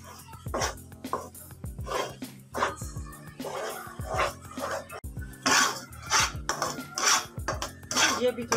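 Gram flour halwa is stirred in a pan over a low flame, giving repeated scraping and clanking strokes of the spoon against metal. They come in a steady rhythm at close range, with no talk over them.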